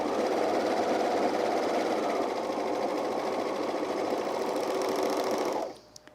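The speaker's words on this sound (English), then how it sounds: "And I'm using my serger for the entire seam." A serger stitching a 3/8 inch shoulder seam on a men's fleece pullover, a close, steady mechanical whir that runs continuously for about five seconds, then stops abruptly.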